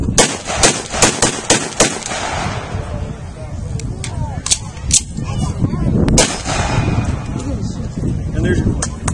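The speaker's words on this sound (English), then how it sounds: "here we're going to demonstrate to you the M1 rifle" M1 rifle, a WWII-era semi-automatic, fired outdoors in a rapid string of sharp, loud reports early on, then a few more scattered shots over wind and background noise.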